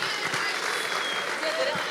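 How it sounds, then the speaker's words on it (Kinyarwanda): A studio audience claps continuously as a dense patter of many hands. A voice speaks over the applause. "amashyi menshi cyane kuri Promesse Kamanda"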